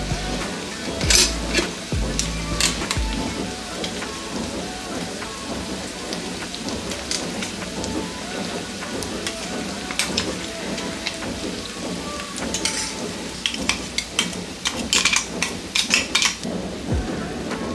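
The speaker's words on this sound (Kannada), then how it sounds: "ಗೋಲ್ಡನ್ ಬ್ರೌನ್ ಆಗೋ ತನಕ ಇದನ್ನು ಇದೇ ರೀತಿಯೇ ಫ್ರೈ ಮಾಡ್ಕೋಬೇಕು" Onions fry in oil in a pan for North Karnataka masala chitranna, giving a steady dense sizzle and crackle throughout, with occasional stirring clatter on top.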